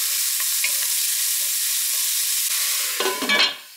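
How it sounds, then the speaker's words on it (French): Finely sliced onions with a pinch of salt fry in a pan with a loud, continuous close sizzle, then a burst of stirring and scraping near the end. "J'ajoute mes oignons qui sont finement émincés."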